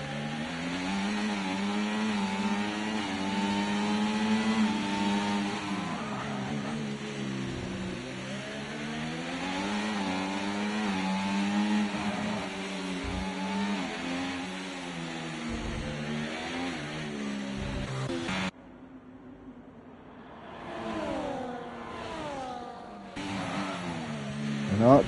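A pack of racing cars in a sim racing game around the Baku street circuit drone and rev with high, wavering engine tones under a commentator's voice, cutting briefly before resuming.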